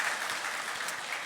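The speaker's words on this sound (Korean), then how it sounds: "우리 감사의 박수 하도록 하겠습니다" A church congregation applauding together during a Sunday worship service: a steady, dense wash of clapping from many hands that fills the room, continuous and fairly loud throughout.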